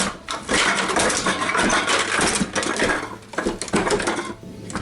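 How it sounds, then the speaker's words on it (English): A homemade all-wood aluminum can crusher with an auto-reload lever gives a busy run of loud, close metallic crunches, clatters and knocks as cans are crushed, drop out and reload, with no voices. "So you push this one, it crushes the can drops, the next one loads automatically"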